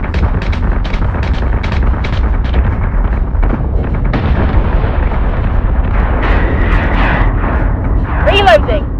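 Warship cannons fire in steady rapid bursts with heavy booming explosions in the Battlestar Galactica Deadlock space combat game, loud and continuous, with a sweeping whine near the end and radio voices over the battle.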